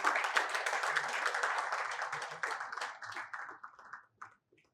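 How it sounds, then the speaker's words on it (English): An audience at an annual lecture on tax reforms claps for a speaker, dense applause at first that thins and breaks into scattered claps before fading out. "A round of applause for him."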